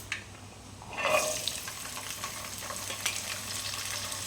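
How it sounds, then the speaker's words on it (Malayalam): Garlic dropped into hot coconut oil with popped mustard seeds for a mango pickle, sizzling and crackling steadily with a brighter burst as it goes in, close and alone with no voices. "കടുക് പൊട്ടി വന്നത് നമുക്ക് അതിലേക്ക് വെളുത്തുള്ളി ഇട്ട് കൊടുക്കാം."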